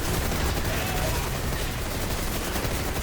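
A dense, continuous barrage of overlapping gunfire as a rig's overdrive fires all of its guns at once in the Exoprimal video game. It is loud and steady for the whole stretch, with no pauses.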